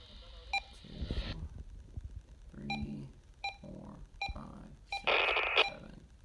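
Baofeng-type FRS walkie talkie (BF-888S class handheld) giving a series of short electronic beeps while being dialed to channel 8, spaced irregularly with a longer bright tone near the end, fairly quiet and close.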